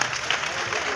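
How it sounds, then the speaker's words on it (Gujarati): Dense applause from an audience at a devotional music programme at Har Gangeshwar Mahadev, honouring a volunteer; steady, continuous clapping fills the whole second with a crowd murmur. "બાબુભાઈ ચડોકિયાને એક વખત જોરદાર તાળીઓના ગગડાથી વધાવશો."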